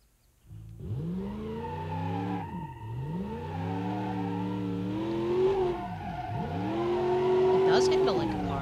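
Supercharged V8 engine of an all-wheel-drive Gavril Bandito Sport in BeamNG Drive, droning steadily with rising and falling revs across shifts, loud and close, with a voice talking over it.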